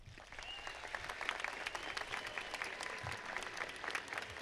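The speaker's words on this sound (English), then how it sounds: "Families, let's give them a round of applause." A high school graduation audience at a commencement ceremony applauds, dense, steady clapping from a large crowd, heard at a distance throughout.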